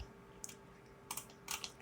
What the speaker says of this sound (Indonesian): Tekan G pada keyboard